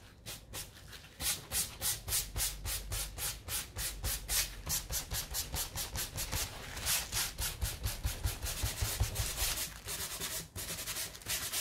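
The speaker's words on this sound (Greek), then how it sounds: "Θα συνεχίσω να βγάλω την παλαίωση με ένα γυαλόχαρτο," Steady rhythmic scraping of sandpaper on painted wood, removing a brown aging finish, close and continuous, back-and-forth strokes repeating about twice a second.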